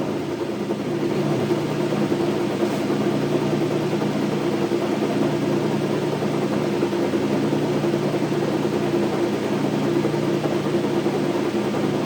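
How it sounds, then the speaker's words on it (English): Hendey lathe turning at its 60 RPM speed setting, a steady mechanical hum and drone that holds constant throughout, moderately loud with no talking. "this is supposed to be 60 RPM"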